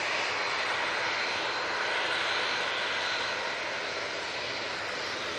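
An airliner departing Manchester Airport gives a steady, loud broadband engine roar that holds evenly for the whole stretch, with no voices over it.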